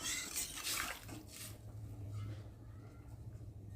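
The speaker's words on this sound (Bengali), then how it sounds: "আর এখন আমি পরিমাণ মতো জল দিয়ে ভালো করে নেড়ে চেড়ে" Water is poured into a cooking pot of lentils, potato and papaya, then stirred: a steady nearby splashing and gurgle that soon gives way to quieter stirring scrapes over a low hum.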